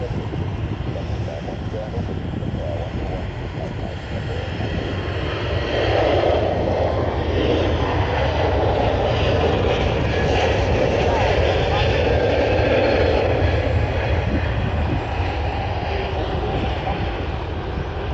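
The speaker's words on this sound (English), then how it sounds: "the Turkish Airlines Neo has started a takeoff roll" Turkish Airlines A321neo jet airliner rolling for takeoff at Manchester Airport, a steady loud engine roar that swells midway and holds, with a voice talking over it.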